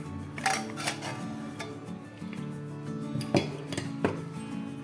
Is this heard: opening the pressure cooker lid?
yes